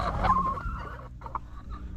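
Pet chickens cluck close by in a short run of soft, throaty notes, with no voices.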